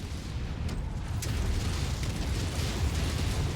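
Explosions from a destroyed target in the MechWarrior 5: Mercenaries mech combat game, a sustained loud rumbling boom with dense low-end roar and debris crackle running throughout.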